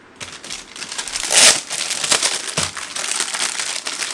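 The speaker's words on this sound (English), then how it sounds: "I'm just going to put this aluminum foil sheet in there." A sheet of aluminum foil goes into a preheated Ninja Foodi grill with loud, close crinkling and crumpling that swells briefly and then keeps rustling on its own.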